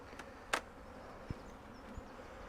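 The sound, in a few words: forage honeybees buzzing in a split colony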